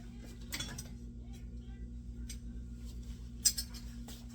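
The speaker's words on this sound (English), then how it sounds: "So let me get a bigger knife." Knives and utensils clinking as a bigger knife is picked out in a home kitchen, a few sharp metallic clinks over a steady low hum.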